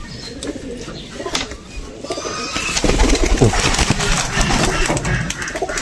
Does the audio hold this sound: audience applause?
no